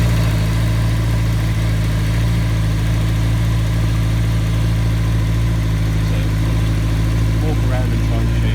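A Honda CBR1100XX Blackbird motorcycle idles cold while warming up, its steady low engine drone loud and constant throughout, close by, with a faint voice and some light background noise over it.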